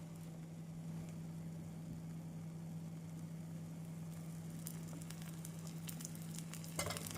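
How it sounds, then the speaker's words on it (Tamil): Ragi dosa batter, spread thin on a hot pan with oil, gives a steady close sizzle that holds at an even level throughout, with a few light scrapes near the end and no talking. "இந்தளவு மெலிதாக ஊற்றிய பின் எண்ணெய் ஊற்றிவிடலாம்."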